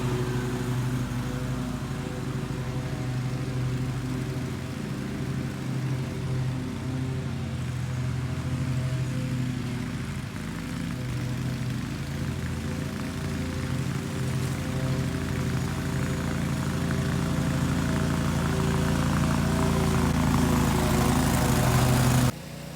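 Ferris Z1 48-inch Soft Ride stand-on lawn mower running in the field, its engine and deck making a continuous loud, steady drone for over twenty seconds with a slight rise near the end before cutting off.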